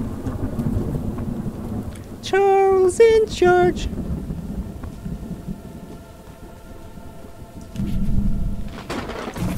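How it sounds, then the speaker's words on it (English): Thunder rumbles through a stormy night in the Choo Choo Charles video game, a low rolling roar with steady rain underneath, while a brief tonal game sound and a speaking voice break in early on. "Listen, stop the lightning. A little bit of thunder."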